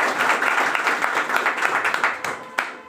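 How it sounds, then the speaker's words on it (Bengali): A seminar audience applauding new guests, sustained crowded clapping in a hall that stays steady, then thins and fades out toward the end. "ওনাদের জন্য একটা জোরদার করতালি হবে"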